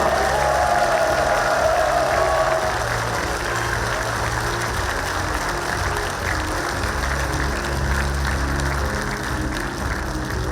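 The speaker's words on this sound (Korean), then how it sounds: "대통령님께 다시 한번 뜨거운 박수 부탁드리겠습니다" A large audience at an outdoor inaugural ceremony for Gangwon Special Self-Governing Province claps for the President, a dense, sustained wash of applause that holds steady across the whole stretch.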